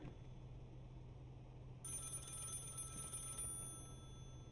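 A phone rings in the police video game Contraband Police, a steady electronic trill lasting about a second and a half over a constant low hum of in-game ambience, with no voices.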